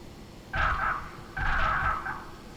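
Aircraft thrust reversers deploy in Microsoft Flight Simulator 2024, two separate whooshing roars with a tonal whine, each lasting under a second, heard alone against a quiet background.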